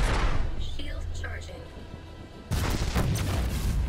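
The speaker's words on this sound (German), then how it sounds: "ist das hier gerade eben eine mächtige Explosion neben uns gewesen" A nearby explosion in the space game Freelancer rumbles as a loud, deep burst that fades, then a second heavy blast hits abruptly partway through, with a voice murmuring faintly beneath.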